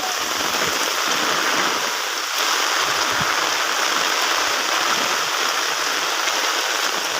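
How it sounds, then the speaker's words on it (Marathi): Heavy rain falls in a loud, unbroken roar over green rice paddies at planting time, steady and close, with no voices. "भरपूर असा पाणी पडत आहे"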